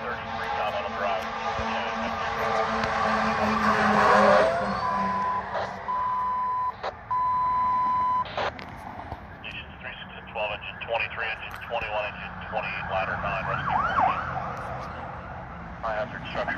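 A fire engine and a chief's car pass on a structure fire call, wailing and yelping sirens sweeping up and down with a steady tone and air-horn-like blasts, loud and near, while radio dispatch talk runs underneath.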